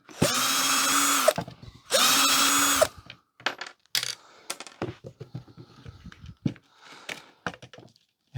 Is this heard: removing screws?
yes